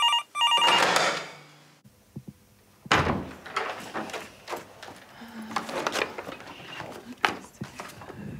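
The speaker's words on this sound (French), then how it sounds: "Il y a le téléphone qui a sonné." A telephone rings loudly in an office at the start, followed by a door-like knock and clatter, then quiet rustling and handling noises with no talk.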